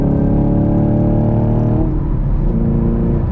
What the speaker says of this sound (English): I'm gonna go from fourth to fifth.